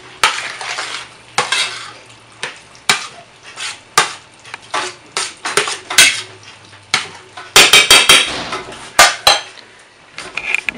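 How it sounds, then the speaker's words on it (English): A spoon stirring kidney beans and sauce in a pot, with loud scraping and clinking against the metal sides in irregular strokes, close up over a faint sizzle and no speech. "Get that all stirred up in there."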